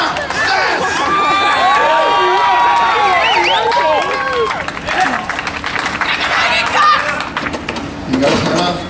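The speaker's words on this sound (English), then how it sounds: "Let's give her a big round of applause for her." Crowd at a NOVA FM belly flop contest beside a 1 metre springboard in Brisbane cheering and applauding a contestant, with high whoops and shouts over steady clapping and voices mixed in.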